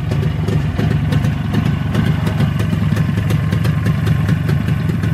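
A unique 360 engine idles steadily and loudly up close, its even low-pitched clatter and firing pulses continuing without pause and with no talking.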